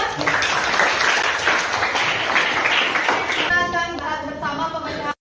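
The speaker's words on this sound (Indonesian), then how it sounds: "Tepuk tangan" Dense classroom applause, many hands clapping at once in a steady wash of sound that thins into a few scattered claps before cutting off abruptly.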